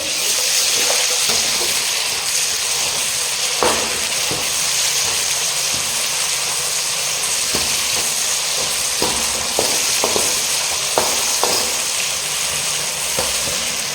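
A small amount of ginger garlic paste fries in a pan with a constant close sizzle and hiss, broken by occasional light clicks and taps of a utensil against the pan.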